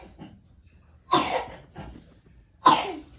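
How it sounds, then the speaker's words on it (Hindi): A child's coughs, two sharp bursts about a second and a half apart with a softer cough between them, close by in a quiet room. "काफ़ी खांसी कर रहा है"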